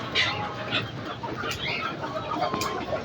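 Chickens cluck in short bursts against a busy, noisy outdoor background, with occasional sharper calls standing out.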